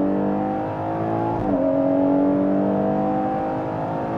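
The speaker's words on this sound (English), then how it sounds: "very late apex corner, back on the throttle for the straightaway." A race car accelerates on throttle out of a late-apex corner onto a straightaway, its engine a loud, steady, close drone that dips briefly at a gear change and then climbs in pitch.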